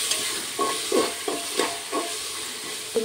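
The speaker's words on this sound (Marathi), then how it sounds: "छान ते फिरवून घ्यायचं." Cabbage stir-fried in a pan for village-style khichdi rice, a steady sizzle broken by several rhythmic scraping stirs of a spatula, close and clear with no talking.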